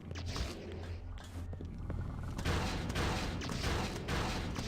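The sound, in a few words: automatic cannons firing in the video game Space Hack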